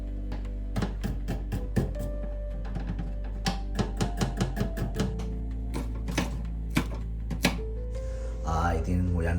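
A knife chops raw chicken on a board in a Korean apartment kitchen: a long series of crisp, close, irregular thwacks, some quick and clustered, ending with a brief scraping shuffle.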